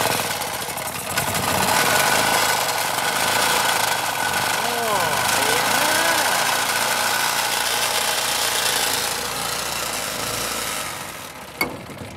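A Champion generator pulled from the dump runs continuously with a steady, close mechanical drone and a slight knocking texture. People talk over it, and it cuts off abruptly near the end.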